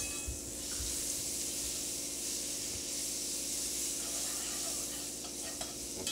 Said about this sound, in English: And the butter. You're going to want to let that melt and whisk it around.